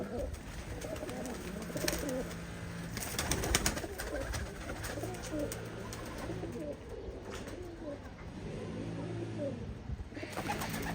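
Uzbek pigeons coo softly and repeatedly at a pigeon auction, several birds overlapping in low murmuring calls, with faint background voices.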